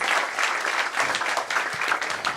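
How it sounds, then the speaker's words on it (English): A crowd applauds steadily, dense clapping filling the whole stretch at a constant, moderately loud level. "give them a round of applause"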